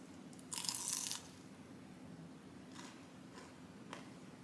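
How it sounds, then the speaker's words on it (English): A crunchy taco made with small tortillas, refried beans and cheese is bitten with one loud crisp crunch, followed by a few faint chewing crunches at close range. "I can't stop eating these little taco things."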